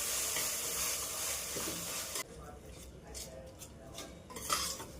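A spoon scrapes and stirs baingan bharta, a mashed eggplant dish, in a pan over a low flame, with a soft sizzle underneath and clinks of metal against the pan.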